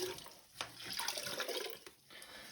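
Water splashing and trickling in a toilet tank as something is soaked and wrung out, soft uneven dribbles and a few sharper drips, fairly close and quiet.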